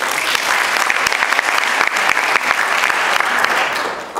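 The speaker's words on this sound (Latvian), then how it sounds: "Arī aplausi." Steady audience applause from a crowd at a Latvian event, dense and sustained for several seconds with no voices over it, loud and close.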